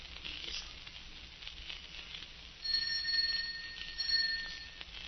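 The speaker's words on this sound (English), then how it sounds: "Answer the doorbell, will you?" A doorbell rings in a quiet indoor setting, its bright tone arriving in two clear bursts over a low background hum, with no voices.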